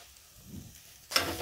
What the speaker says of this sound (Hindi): अब हम इसमें गाजर को डाल देंगे।